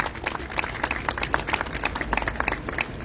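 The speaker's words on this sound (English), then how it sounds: "So let's give Aetna a round of applause for what it offers." Press conference audience at a city demolition project event claps in a moderate, uneven scattering of hands, individual claps distinct over a low background rumble.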